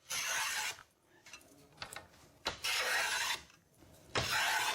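Ebony on a handmade snooker cue being shaped with a hand plane: three long, loud rasping strokes, each a broadband shaving scrape, separated by quieter gaps with faint handling noise.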